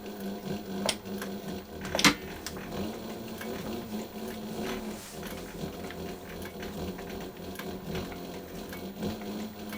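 Slow-running post bed sewing machine with a quiet servo motor stitching a leather boot, a steady low mechanical chatter with occasional louder clacks, close and moderate in level, no talking.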